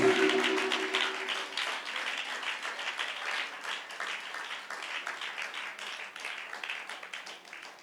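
A church congregation at a Sunday service claps loudly and continuously, dense steady applause filling the room and slowly easing off, with no voices over it.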